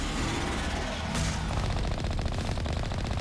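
Rapid automatic gunfire from Mass Effect Legendary Edition during a fight against a Thresher Maw, loud continuous bursts with a sharp crack near the middle followed by fast rhythmic rattling.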